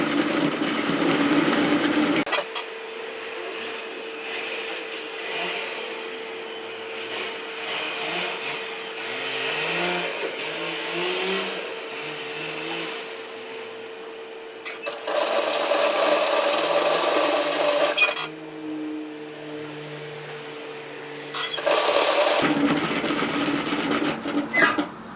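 A domestic sewing machine stitches a seam on a draped cardigan with fitted sleeves, a steady close motor whir that stops briefly and restarts in bursts near the end.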